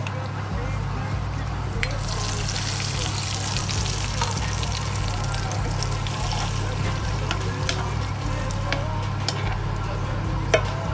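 Tempering of mustard seeds, urad dal, dried chillies and curry leaves in hot oil, a busy crackling sizzle with scattered pops over a steady low hum, running for several seconds.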